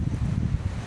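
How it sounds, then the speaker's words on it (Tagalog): Strong typhoon wind buffets the microphone in heavy, rumbling gusts, loud and close, with rough low-pitched roaring throughout and no voices. "Grabe yung hangin"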